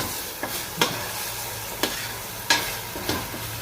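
Ground green chili masala roasts in a pan with a steady sizzling hiss, broken by several sharp utensil scrapes and stirring knocks at irregular intervals, with no talking.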